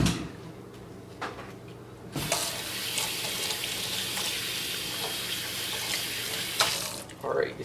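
A dish rinsed under a running kitchen tap, starting with light clinks and handling, then a steady loud rush of water into the sink for several seconds before it cuts off with a few final dish knocks.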